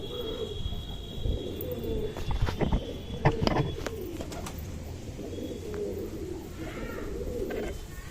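Pet pigeons, including a red Lotan pigeon, coo steadily and close by, with a brief burst of clicking and fluttering partway through and no talk over them.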